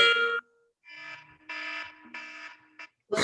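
A phone alarm tone plays in short bursts of bright beeping notes with pauses between them, fairly faint.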